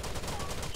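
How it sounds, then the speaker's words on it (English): Rapid automatic gunfire in the video game Tom Clancy's Rainbow Six Vegas during a Terrorist Hunt mission, a dense, steady stream of shots that fills the moment, loud and continuous. "Someone's shooting from downstairs."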